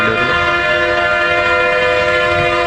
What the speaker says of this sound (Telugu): ఇది రైల్వే స్టేషన్ దగ్గర.